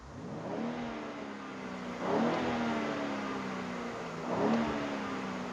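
A BMW X3 M engine with its variable exhaust switched on revs twice, rising to a throaty roar each time. Between the revs it settles back to a steady, smooth rumble.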